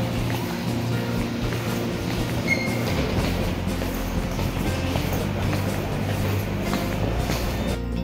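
Riding a metro train toward Indira Nagar, a loud steady rumble of the moving carriage with low droning engine tones and faint rhythmic rattling throughout.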